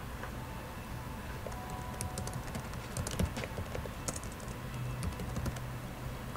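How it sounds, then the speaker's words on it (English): Steady typing on a computer keyboard, with quick, irregular key clicks running close and fairly quiet throughout, and no voices. "you'll type your query"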